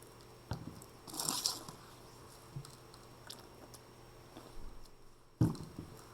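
A roughly 30-gram soil sample being wetted and worked by hand for a texture test, giving soft, intermittent crunching and squishing handling noises with a brief louder burst near the start and a sharp knock near the end.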